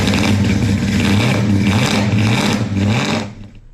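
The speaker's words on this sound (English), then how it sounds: "The sound of gasoline engines are something all of us are familiar with." A gasoline car engine runs loud and close with a steady mid-pitched drone and a few rising rev swells, then cuts off abruptly near the end, with no voices.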